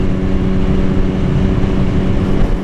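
Steady, loud engine drone of a Triumph Speed Triple motorcycle, a continuous low rumble with a humming tone held evenly throughout, close and unbroken with no talk.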